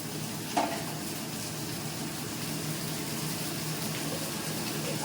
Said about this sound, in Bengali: দুটো ক্যাপসিকাম নিয়েছিলাম এটা ততক্ষণ একটু ভাজা ভাজা হোক